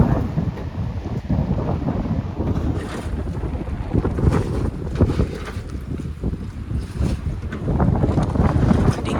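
A fishing boat engine rumbles steadily and low throughout, with gusts of wind buffeting the microphone and water noise around it.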